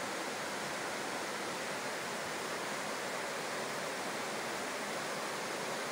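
A waterfall at Águas Brancas in Três Coroas pours down over rocks, giving a dense, constant roar of rushing water that stays steady and loud throughout with no voices.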